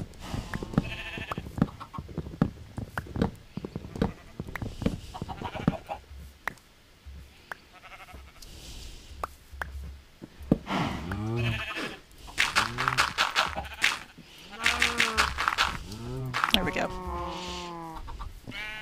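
Sheep in the Minecraft video game bleat repeatedly, several wavering calls stacking up in the second half, mixed with clicks and block-breaking taps while someone talks intermittently.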